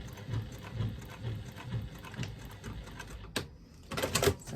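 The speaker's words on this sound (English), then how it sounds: "I'm just going to stitch across where I folded" A sewing machine stitches across a folded fabric strap for a bag, running in a quiet, even rhythmic whir with short pauses and a couple of clicks near the end.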